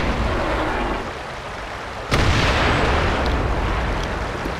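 A tank's main gun fires in World of Tanks: one sharp, loud blast about halfway through, rolling into a long rumbling tail over steady battle noise.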